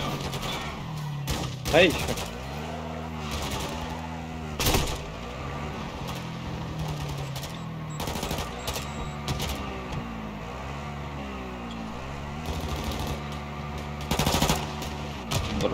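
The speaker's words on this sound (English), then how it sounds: "I'm taking fire!" Automatic and single gunshots crack out in repeated bursts during a Call of Duty Warzone 2 DMZ match, loud and close over engine-like background hum, while players talk and shout between the volleys.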